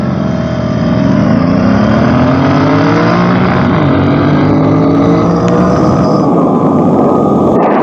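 Two Royal Enfield GT650 motorcycles pull away together side by side, one with the stock exhaust and one with an RRP exhaust, giving a loud, continuous engine roar that rises steadily in pitch as they accelerate.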